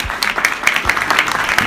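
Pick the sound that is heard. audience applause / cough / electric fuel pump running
audience applause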